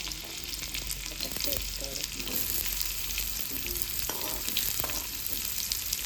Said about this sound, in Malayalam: നമുക്കിനി ഇതൊന്ന് ഇളക്കി കൊടുക്കാം. നല്ല മണമുണ്ട് വെളുത്തുള്ളിയുടെ ഈ എണ്ണയ്ക്കകത്തോട്ട് കുറച്ച് സവാളയാണ്